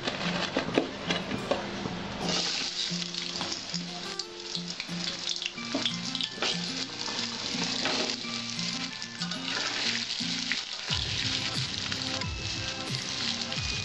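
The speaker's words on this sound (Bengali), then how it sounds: "আলুটা আমি লাল লাল করে ভেজে নেব।" Potato pieces coated in salt and turmeric fry in hot mustard oil, giving a steady close sizzle with occasional stirring scrapes and spatula knocks under soft background music.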